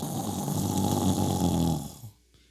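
A preacher imitates loud snoring in one long, rough, rasping breath that lasts about two seconds, then stops abruptly, leaving near silence.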